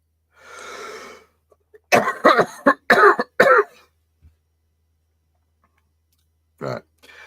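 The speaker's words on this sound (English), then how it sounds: "I'm struggling with my cough" A breathy exhale followed by a cluster of harsh, close coughs in quick succession, then silence and one more cough near the end.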